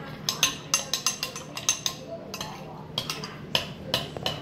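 Glue stirred in a bowl while making galaxy slime, a run of quick clinking and scraping strokes in an uneven rhythm, close and fairly quiet.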